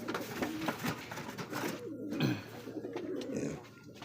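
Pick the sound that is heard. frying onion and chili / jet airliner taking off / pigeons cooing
pigeons cooing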